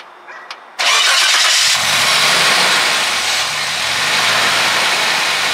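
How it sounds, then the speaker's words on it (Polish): Suzuki Vitara V6 cranks with a brief whir, catches with a sudden loud roar, then settles into a steady close-up idle. "to teraz porównamy sobie dźwięk V6"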